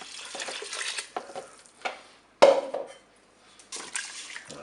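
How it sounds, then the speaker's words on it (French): Water pours into a Cookeo multicooker over rice and other ingredients, with splashy liquid bursts and pauses, one sharp louder splash midway, close and alone with no talk. "Je vais verser de l'eau pour recouvrir"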